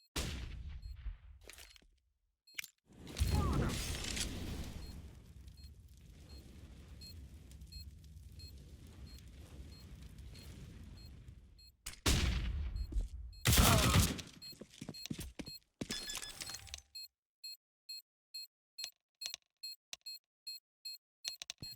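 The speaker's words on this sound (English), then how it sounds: "Throwing a flashbang." A flashbang in a multiplayer shooter game detonates in loud bursts after a brief lull, followed by a high ringing tone and rapid electronic beeps, with gunfire bursts in between.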